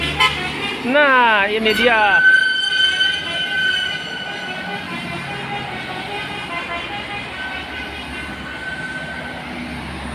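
A tour bus from Jayaputra sounds its musical telolet horn beside a roadside in Banjar, a loud warbling, pitch-sliding melody for about two seconds, then engine noise fades as the bus passes, with someone talking briefly.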